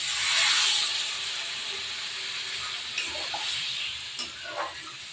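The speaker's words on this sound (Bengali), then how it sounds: "এবার জল দিয়ে দিলাম" Water poured into hot, well-fried curry masala with potatoes gives a loud steam hiss that fades into softer bubbling and a few light clinks.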